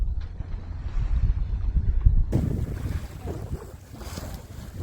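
A Cromarty 36 sailing boat moving under sail off the Welsh coast, with buffeting wind noise and a low rushing wash of water against the hull, gusts swelling loud midway, with no voices.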